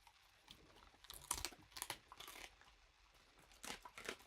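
A dog bites into a crunchy treat stick with a series of sharp, irregular crunches and snaps. The chewing is close but fairly quiet, comes in bursts with short pauses, and no one speaks.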